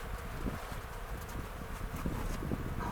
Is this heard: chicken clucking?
no